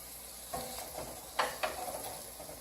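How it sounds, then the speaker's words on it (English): Tomatoes tipped into a hot pan for spicy kidney beans hit the oil with a few sharp sizzling bursts over a steady low fry hiss, close and fairly loud with no talk. "The tomatoes go in"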